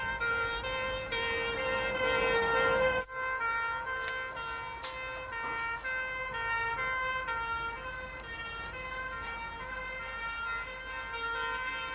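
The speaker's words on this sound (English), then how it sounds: "The fire engine's here." A fire engine siren wails continuously with steady, repeating tones in an outdoor street scene, loud and near throughout, with no talk over it.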